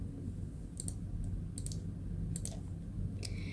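Computer mouse clicks while working in an Excel spreadsheet, a few quick, close, faint clicks spaced irregularly over a steady low background hum.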